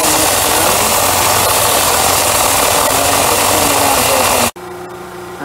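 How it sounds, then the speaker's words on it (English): A big grinding wheel bites into metal with a loud, dense, continuous roar and rattle that cuts off abruptly near the end, leaving a quieter hum behind. "taking the meat off with this big giant grinding wheel"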